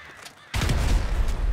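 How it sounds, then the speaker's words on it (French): Explosion set off inside a cave in GTA 5, a sudden loud blast after half a second of quiet, followed by a sustained roaring, crackling rumble that fills the rest of the moment. "J'ai envie de mettre une explosion à l'intérieur."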